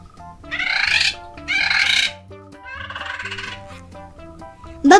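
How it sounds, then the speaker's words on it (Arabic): A parrot gives a series of harsh, raspy squawks in short bursts, followed by a thinner call and a sharp note at the end, over faint background music. "ببغاء."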